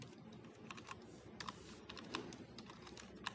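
Typing code on a computer keyboard: quick, faint key taps in a steady irregular patter over a low background hum, with no talking.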